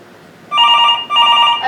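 A telephone rings in two bursts of bright, steady electronic ringing, loud and close, on a quiet stage during a theatre performance of a two-person play.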